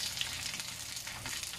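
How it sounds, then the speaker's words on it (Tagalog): Dried fish (daing) frying in very hot oil, a steady loud crackling sizzle with small pops, close by and continuous with no speech. "Ang sikreto po sa pagluluto ng daing, kailangan mainit na mainit ang inyong mantika."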